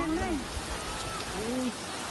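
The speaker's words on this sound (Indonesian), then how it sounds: "Mobil ini terseret arus banjir yang sangat deras di Bantul, Yogyakarta pada Jumat malam." Fast, heavy floodwater rushes through Bantul, Yogyakarta, at night while a car is swept along, a steady broadband roar of water with voices calling out over it.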